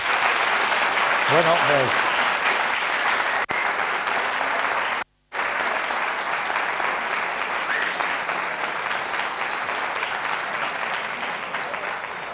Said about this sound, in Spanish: el aplauso en realidad es para todos los que se han involucrado en que esto sea posible